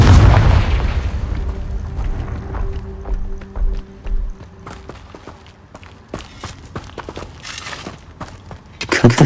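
A Confringo blasting spell explodes in the video game Hogwarts Legacy, a deep booming blast up front that rumbles and decays, followed by scattered thuds, clicks and footsteps before another louder burst at the end.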